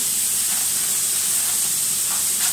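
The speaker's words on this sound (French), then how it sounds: "juste avant de faire revenir de l'autre côté mon steak haché" Beef burger patty searing in a hot pan for a homemade bacon hamburger, a loud continuous sizzling hiss that holds steady without pause.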